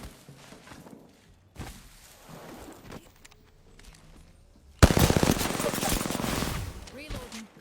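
Gunfire in the video game Apex Legends: quiet scattered sounds give way to a sudden loud burst of rapid automatic fire. The shooting stays dense and close for the last few seconds.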